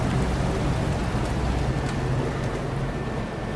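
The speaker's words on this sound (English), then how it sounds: "It's raining like crazy outside." Heavy rain pours down steadily outside on a Sunday at a racetrack, a dense, loud, unbroken hiss of drops hitting surfaces with no talking.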